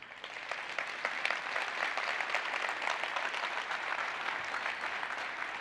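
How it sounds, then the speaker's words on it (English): A round of applause from the audience at an IT training talk, steady dense clapping of moderate loudness that holds evenly throughout with no voices over it. "big round of applause for Andrew"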